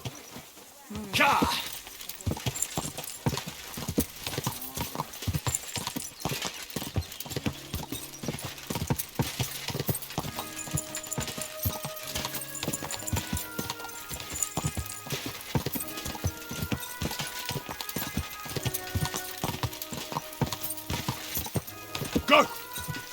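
A horse's hooves clip-clop steadily in Kingdom Come Deliverance 2, a continuous brisk rhythm of hoofbeats close by throughout, with a voice speaking briefly near the start.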